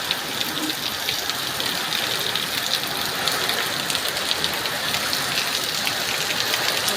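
Heavy monsoon rain pours down without a break, a dense, loud, even hiss of water drumming on surfaces.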